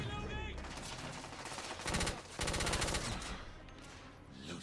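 Rapid bursts of gunfire from an incendiary dragon's breath shotgun in the game The Order: 1886, with loud, dense blasts coming in clusters and a voice talking over the fighting.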